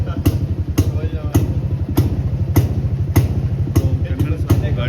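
A restored 59-year-old Jawa motorcycle engine runs nearby with a steady, rhythmic low chugging pulse, punctuated by regular sharp ticking beats about every half second.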